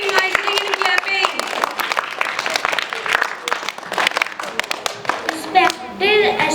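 A school audience claps in a burst of applause at a poem recitation competition, uneven hand claps filling the space while children's voices speak over it.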